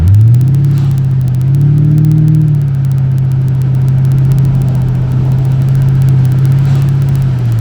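A 2007 Mustang GT engine on a wet road, a loud steady low drone that rises slightly around the two-second mark, then holds an even pitch throughout.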